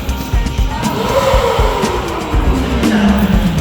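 A car engine idles and revs low as the vehicle maneuvers into a parking spot, its pitch rising and sliding down steadily beneath constant street noise.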